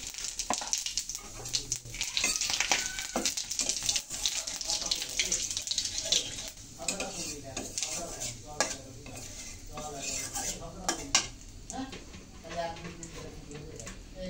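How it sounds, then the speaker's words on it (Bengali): Cumin seeds and bay leaves tempering in hot oil left over from frying fish, giving a steady close sizzle with stirring and clinks of pans, some water running, and a voice talking throughout. "তেল গরম হয়ে গেছে। এখন ফোড়নে দিয়ে দিচ্ছি জিরা তেজপাতা"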